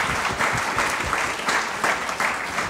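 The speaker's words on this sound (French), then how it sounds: "vos applaudissements pour nos intervenants et nos interprètes" Audience applause at a French conference on prison libraries, thanking speakers and interpreters; a moderate crowd claps in a steady patter with slight swells, heard from a short distance, no talk over it.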